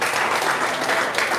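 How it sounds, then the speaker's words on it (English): Audience applause at a network marketing meeting, a dense steady burst of many hands clapping, loud and close, with no pauses. "let's clap for this gentleman here"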